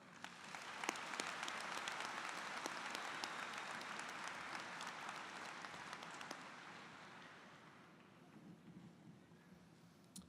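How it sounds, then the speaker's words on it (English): Sustained applause from graduates and audience at a high school graduation ceremony, a dense wash of clapping that stays steady and then gradually fades over about ten seconds. "show your appreciation for all of their support by giving them a round of applause"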